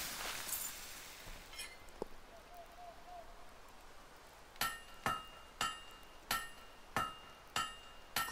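Rhythmic hammer strikes ring out as a blade is forged in Fable 3, about eight evenly spaced metallic clangs in the second half, each with a bright ringing tail, following a quieter stretch of low ambience.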